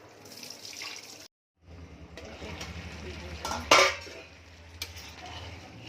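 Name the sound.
running tap water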